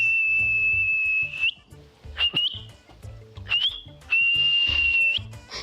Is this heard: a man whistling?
yes